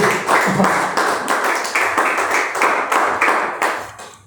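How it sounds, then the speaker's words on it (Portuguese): A church congregation claps in praise during a worship service, rhythmic unison hand claps in an even repeating beat, fairly loud and close, continuing steadily before fading at the end. "as palmas podem louvar ao Senhor"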